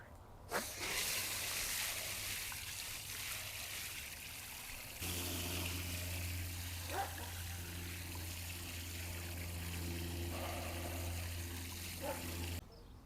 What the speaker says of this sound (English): let's go ahead and fill it with water